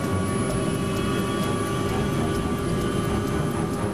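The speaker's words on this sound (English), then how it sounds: "The engines spool up quickly." Airliner jet engines spool up for takeoff, roaring steadily and loudly up close, a dense broadband rush with a high whine riding on top.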